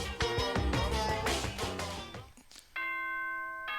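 A doorbell-like chime from the video game Danganronpa rings out clearly after a burst of music, one sustained ding-dong tone standing alone.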